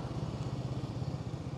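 A motorcycle on an India adventure ride engine drones steadily as it rides along, a low, continuous pulsing rumble that stays even and fairly close throughout.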